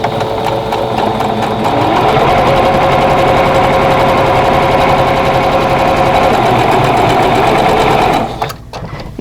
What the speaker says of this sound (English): I'm going to sew a 1/4 inch away from both sides of that drawn line